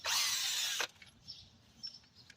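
Power tool whirring on a bolt of a Dodge Challenger oil cooler cover, a short high-pitched burst lasting under a second that cuts off abruptly, followed by faint clicks and small metallic taps.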